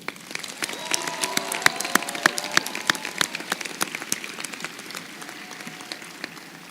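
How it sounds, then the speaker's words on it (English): Scattered, distinct hand claps ring out from a modest crowd at a college commencement ceremony, fairly sparse and thinning toward the end, with faint voices in the background. "Let's give them all a round of applause."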